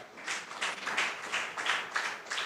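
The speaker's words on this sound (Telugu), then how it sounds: "ఒకసారి నమ్మిన వాళ్ళు దేవునికి గట్టిగా క్లాప్స్ కొట్టాలి" Audience at a Christian sermon on how a wife should be claps loudly for God in steady, rhythmic unison, each burst of claps arriving about three times a second at close range.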